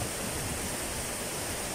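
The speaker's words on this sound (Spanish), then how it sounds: "en el cañón de la catarata del río Agres" The waterfall in the Agres river canyon sends out a steady, dense roar of rushing water, loud and unbroken across the short moment, with no voices.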